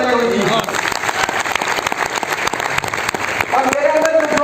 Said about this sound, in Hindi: विजेंद्र सिंह जी राठौड़ के लिए जबरदस्त तालियां होनी चाहिए